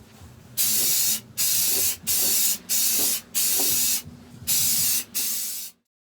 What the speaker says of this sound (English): now we're just going to hit it with a little bit of normal spray paint and give it a good coating